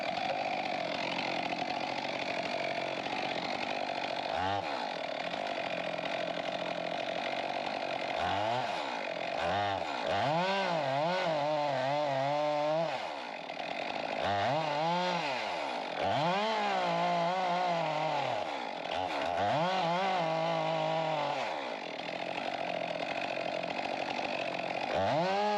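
A chainsaw makes the back cut to fell what may be a chestnut oak, its engine droning steadily and rising and falling in pitch as the chain bites and eases through the trunk, moderately loud and with no voices.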